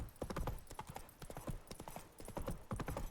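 The horse Roach gallops in a video game, a rapid, steady run of clip-clop hoofbeats, fairly quiet and close, with no talk over it.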